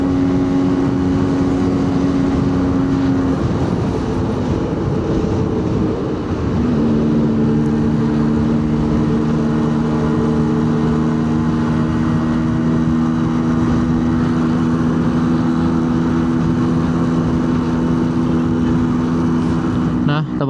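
A Suzuki A100 motorcycle engine, recently rebuilt, runs at full throttle on a highway, a loud, continuous droning hum with steady road and wind roar and a slight pitch shift partway through.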